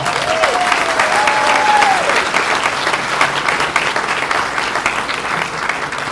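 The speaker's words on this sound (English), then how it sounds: "let's give them another round of applause" A dinner audience at the 2025 Wyoming Reagan Day Dinner gives young people a loud round of applause, dense and continuous, with a brief whistle-like tone rising near the start.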